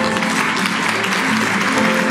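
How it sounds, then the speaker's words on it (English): Audience applause fills a conference hall at the close of a panel session on global venture capital and Japanese startups. It is a dense, steady clapping from many hands, loud and continuous throughout. "A big round of applause to all of our speakers, please."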